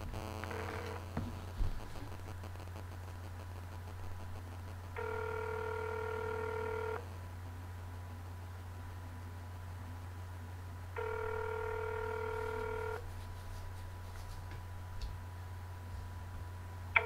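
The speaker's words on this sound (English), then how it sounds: "calling Mayor Bill Droste, the mayor of Rosemount, Minnesota" A telephone call rings out on the line to the mayor of Rosemount, Minnesota, with two long steady ringback tones separated by a pause over a low constant hum.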